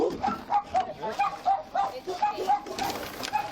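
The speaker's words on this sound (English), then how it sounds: "These dogs should be secure in here." A dog barks in short, repeated yelps at a steady rhythm, fairly close, while someone talks over it indoors near a back room.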